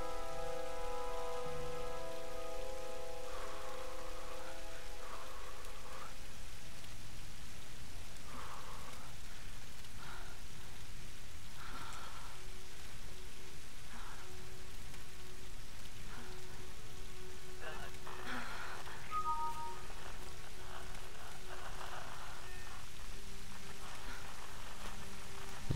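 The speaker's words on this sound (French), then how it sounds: "C'est même pas de la pluie, c'est même un orage." Steady rain falls on a surface through a thunderstorm, a dense continuous hiss throughout with faint tonal sounds and brief voices in the background.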